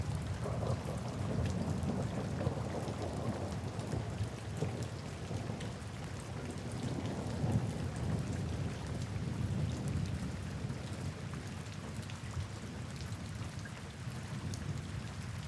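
Steady rain falls without pause through a camping storm, with low rolling thunder rumbling beneath the dense hiss of the downpour.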